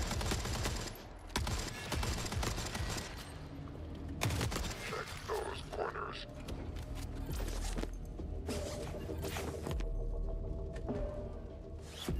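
SMG bursting on full auto in the Forever Winter shooter, rapid rattling gunfire in repeated long bursts, close and loud, with mechanical clicks and handling noise between strings of shots.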